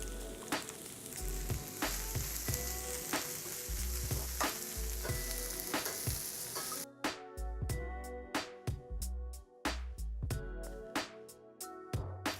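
Shallots, garlic and chili fry with tofu for black pepper tofu, a dense sizzle punctuated by repeated scraping stirs, the clatter growing sharper and more rhythmic toward the end, no speech.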